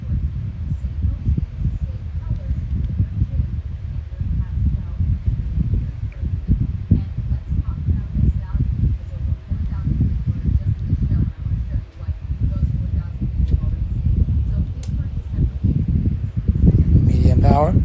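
A household electric fan runs at speed, its steady broadband whoosh of moving air filling the whole stretch at close range, with a brief louder rustle near the end.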